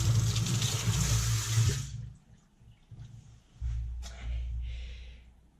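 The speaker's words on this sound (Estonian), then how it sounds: "et inimesed joovad otsa kraanist." Water gushing from a tap, loud and steady for about two seconds before cutting off, followed by quieter splashes, a brief gasp and faint trickling.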